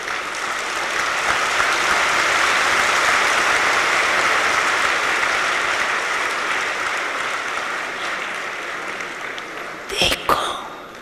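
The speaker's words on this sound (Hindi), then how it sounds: "हाँ, ताली बजाओ।" Dense applause from a seated audience at a spiritual gathering runs steadily and loudly for about ten seconds, fading slightly before a few sharp knocks near the end.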